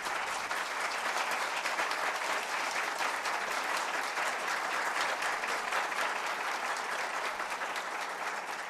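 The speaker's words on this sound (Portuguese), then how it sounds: "E eu queria uma salva de palmas para eles" Sustained applause from an audience at a lecture, dense and even clapping filling the whole stretch at steady volume with no voices over it.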